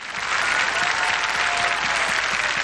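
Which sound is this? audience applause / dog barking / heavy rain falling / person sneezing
audience applause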